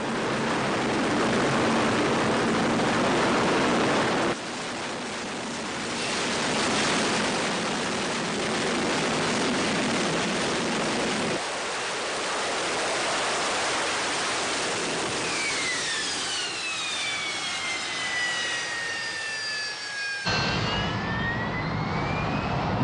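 Harrier jet hovering on thrust from four main nozzles, a loud, steady roaring jet blast that shifts in level partway through, with a rising and falling whine toward the end.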